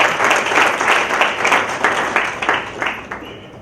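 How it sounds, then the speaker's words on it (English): A social science congress audience gives a big round of applause to a professor and his team, loud clapping from many hands with distinct surging pulses that gradually thin and fade toward the end. "I request all the audience to give big applause to the Professor R.K. Mishra and his team."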